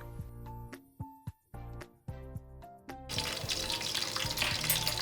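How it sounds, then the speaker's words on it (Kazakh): Chicken strips are dropped into hot oil, giving several sharp sizzling bursts that settle into a loud, continuous crackling fry with no talk. "Қызып тұрған майымызға дайындап қойған стрипсымыздың барлығын салып, жақсылап қызарғанша қуырып аламыз."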